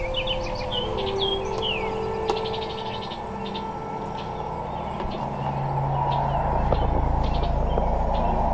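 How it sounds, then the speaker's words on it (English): Birds sing and chirp outdoors along a path lined with blooming honeysuckle at an abandoned amusement park, with scattered high calls and trills over a steady low background rumble and no talking. "Listen to these birds."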